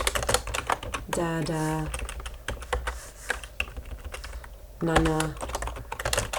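Keys clatter steadily on a computer keyboard while a person types text into a document, the rapid tapping running under a speaking voice that talks throughout.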